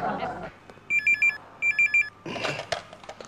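A telephone bell rings in two short electronic bursts, each with a quick warbling pattern, between stretches of people talking.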